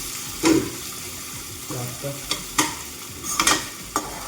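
Chicken and onions frying in a pan for a Nepali-style chicken curry, a soft steady sizzle broken by several sharp scrapes and clatters of stirring.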